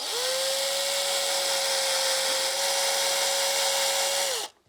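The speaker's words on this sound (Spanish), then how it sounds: "Ahora ya le puedo hacer los agujeros con el chismecico ese" A small power drill boring holes into a vulture bone to make a flute gives a steady high whine that holds for several seconds, then stops abruptly at the end.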